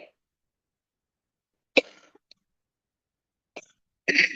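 A few separate coughs from a person with a mild cold ring out in near silence, sharp and close, with a pair of harsher bursts toward the end.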